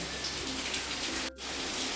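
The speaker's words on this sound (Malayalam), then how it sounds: "ഇവിടെ നല്ല മഴയാണ് കുറച്ച് ദിവസമായിട്ട്" Heavy rain falls outside as a steady, dense hiss that fills the whole clip without a break.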